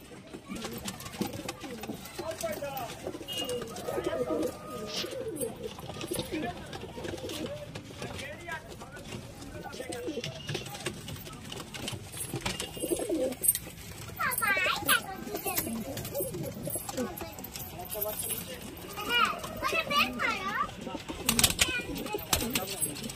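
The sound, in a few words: pigeons cooing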